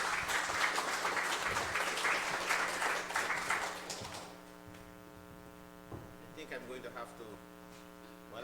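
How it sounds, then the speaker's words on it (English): Audience applause at an Indigenous Peoples' Resistance Day forum, a dense round of clapping for about four seconds that fades out, leaving a steady electrical hum with faint room noise. "A round of applause,"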